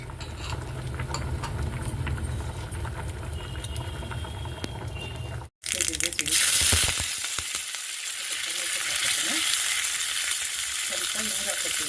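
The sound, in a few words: mustard seeds and cumin sizzling in hot oil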